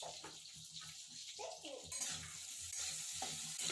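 Potatoes fry in a kadai of oil with cumin seeds, giving a steady close sizzle with stirring scrapes throughout.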